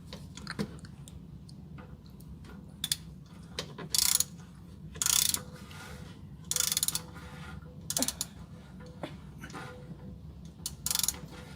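A ratchet wrench clicks in short, quick bursts as it loosens the oil pan drain plug under a 2008 Toyota Sienna. Pauses fall between the runs of close, sharp metallic ticks.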